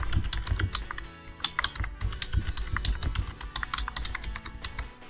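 Rapid typing on a computer keyboard, with quick, uneven clusters of crisp key clicks running steadily for about five seconds at close range, no voices.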